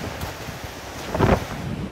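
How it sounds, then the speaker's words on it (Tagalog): Strong Super Typhoon wind gusts outdoors near a town hall in the Philippines, a loud rushing roar buffeting the microphone with one heavier gust midway, no voices. "mas lalo pang lumakas ang Super Typhoon Nando"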